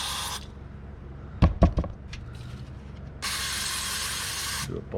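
Cleaner sprays onto an oil leak on an EVO engine in short hissing bursts, first a brief spray, then a few sharp knocks and a longer sustained spray near the end.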